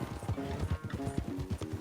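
Rapid, rhythmic hoofbeats of a horse in Red Dead Redemption 2 clip-clopping at a quick pace, crisp and close, with no voices.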